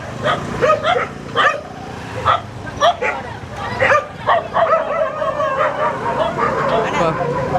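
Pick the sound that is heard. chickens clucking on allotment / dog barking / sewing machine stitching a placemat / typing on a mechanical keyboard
dog barking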